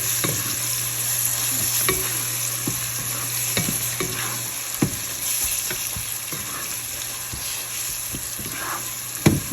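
Ginger garlic paste frying with onions in a pan for kofta masala, with a steady close sizzle broken by repeated spoon scrapes and light taps. A constant hum runs underneath.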